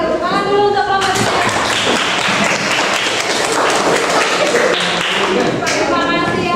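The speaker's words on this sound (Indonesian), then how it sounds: "Tepuk tangan dulu untuk kelompok 3." A classroom of students claps together for a presenting group, a dense burst of hand claps running for several seconds, loud and close, with voices mixed in throughout.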